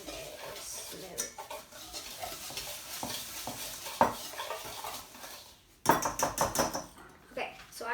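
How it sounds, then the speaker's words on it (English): Banana bread batter is mixed in a bowl with repeated clinking and scraping strokes of a utensil against the sides, uneven in rhythm and louder toward the end, with a voice talking over it. "So just keep mixing till it's all good."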